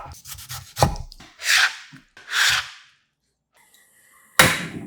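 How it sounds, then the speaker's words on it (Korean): A kitchen knife dicing a tomato into 1 cm cubes on a cutting board: a quick cluster of close, sharp chops, then several separate crisp strikes spaced apart, with quiet gaps between. "깍둑 썰어줍니다."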